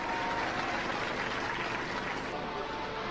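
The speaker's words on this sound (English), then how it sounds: "Give them a round of applause" Steady studio audience applause at a 1998 televised robot combat competition, a dense, continuous wash of clapping that holds at an even level from start to finish with no voices over it.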